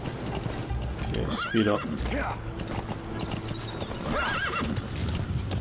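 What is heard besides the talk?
horse hooves galloping in Metal Gear Solid 5 video game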